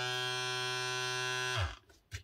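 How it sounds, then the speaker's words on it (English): A cordless suction cup lifter's small vacuum pump runs with a steady, close electric whine for about a second and a half, then cuts off and leaves near silence with a faint knock. "pump will come on again and replenish the vacuum"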